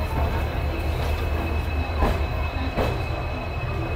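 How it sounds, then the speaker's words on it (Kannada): A passenger train pulling out of Yeshwantpur railway station rumbles steadily with a continuous low roar and faint rhythmic wheel clacks, heard from on board, loud and close, with no talking. "ಇವಾಗ ಟ್ರೈನ್ ಯಶವಂತಪುರದಿಂದ ಹೊರಡ್ತಾ ಇದೆ"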